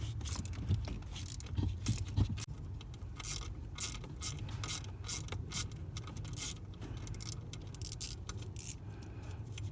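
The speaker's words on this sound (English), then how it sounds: "what we'll see are 3 bolts right here using a T25 Torx head. We're just going to take these out so we can remove this bracket" T25 Torx bolts are worked out of a steering assembly bracket, with close metallic ratcheting, clinking and jangling of tools throughout and no talking.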